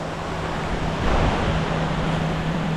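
Continuous broadband rush of a river flowing beside a car campsite in the Bukidnon mountains, steady and close with wind noise and a low hum underneath, no voices.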